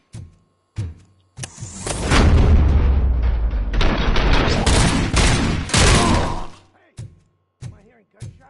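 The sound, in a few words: gunshots in a RoboCop video game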